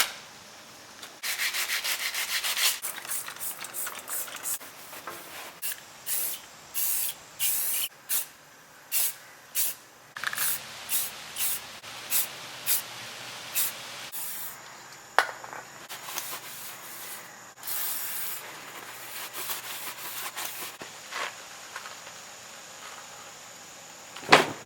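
Repeated bursts of aerosol spray paint hiss onto parts of an old quad bike being restored, short blasts of varying length with brief pauses between them, close and fairly loud.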